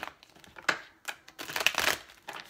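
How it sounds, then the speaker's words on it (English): Tarot cards being shuffled by hand, giving a few quiet bursts of papery riffling and crinkling over about two seconds, close and soft with no talk. "And final shuffle, what does a Taurus person want them to know?"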